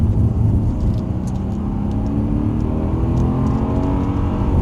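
A car engine drones and revs steadily under full power, a loud, continuous motor note with slowly rising pitch, close and unbroken by talk.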